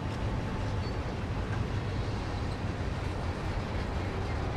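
A Class 66 diesel locomotive in the Train Sim World game rumbles along at low speed, a steady dense drone of engine and rolling noise with no break.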